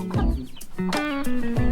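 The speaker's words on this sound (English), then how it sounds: "Beautiful chicken." A chicken clucking at a rural cattle post near the Makgadikgadi salt pans, several close, loud throaty clucks in an uneven rhythm over faint background sound.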